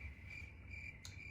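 Crickets chirp in a steady, continuous high trill over a faint low rumble, used as a silence gag with no one speaking.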